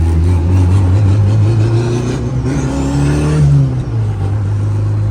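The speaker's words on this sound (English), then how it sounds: "That VTEC crossover is pretty nasty, yo." A turbocharged Honda B20 engine in a car revs hard and climbs through its VTEC crossover, a loud, close droning growl that rises in pitch, dips and pulls again without a break, with no talk over it.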